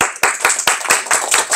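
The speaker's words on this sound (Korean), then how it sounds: "박수 한번 치고," A class of students claps hands together in a school lesson, about seven sharp, evenly spaced rhythmic claps in unison, close and loud with no talking.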